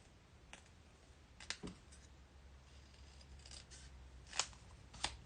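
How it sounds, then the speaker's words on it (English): Scissors cutting out a paper pumpkin shape for a handmade card, a few sharp snips and clicks close up against a quiet background. "This pumpkin's very easy to cut."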